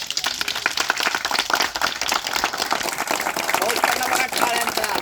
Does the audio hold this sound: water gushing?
no